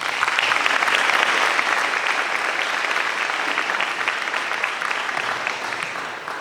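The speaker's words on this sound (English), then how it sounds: "Let's give them a big round of applause" Sustained applause from a large crowd at a teacher of the year award ceremony, steady and dense clapping throughout, slowly tapering slightly toward the end.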